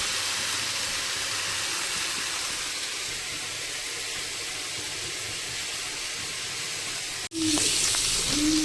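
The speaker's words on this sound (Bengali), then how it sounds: "তাতে পটল ভাজাটা শুরু করবো" Pointed gourd (potol) sizzles in a little hot oil in a wok, a steady, close, hissing fry that breaks briefly near the end and then returns louder, with no talking.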